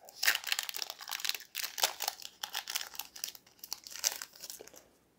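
A Yu-Gi-Oh Galactic Overload foil card pack is ripped open and handled close up, giving bursts of sharp crinkling and tearing with brief pauses between them.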